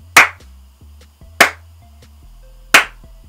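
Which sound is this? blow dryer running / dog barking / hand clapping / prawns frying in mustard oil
hand clapping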